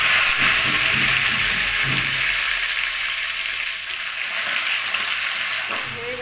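Dried red chillies and bay leaves spit and sizzle in hot oil, a steady close frying hiss that holds throughout with small crackles, with no one talking.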